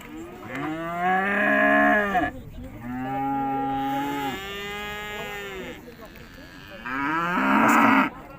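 Cattle at the Urzhar livestock market mooing in several long, loud calls close by, with short pauses between the lowing.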